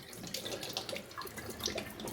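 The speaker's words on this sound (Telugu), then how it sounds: "మొత్తం వాటర్లన్నీ వంపేసుకుంటాను." Water being tipped out of an indoor water-plant container during cleaning, a soft, quiet trickling and splashing pour that runs steadily and close by with no talk.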